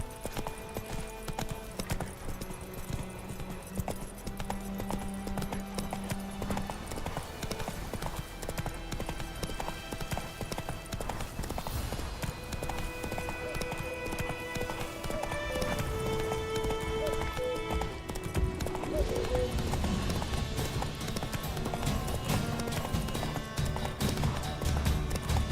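Roach the horse gallops in The Witcher 3, a rapid, steady clip-clop of hooves under game music and ambience, with faint voice lines and a brief whinny-like sound.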